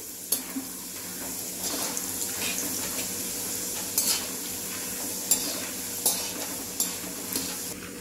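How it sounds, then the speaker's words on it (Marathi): Dal frying in a pan of hot oil for poha chivda, a steady close sizzle and crackle with occasional scraping stir strokes from a spoon, no voices. "सर्व डाळ मी या तेलातनं आपण चांगली तळून घेऊया"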